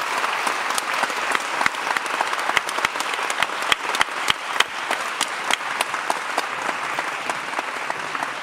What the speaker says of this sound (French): On applaudit Bertrand Piccard.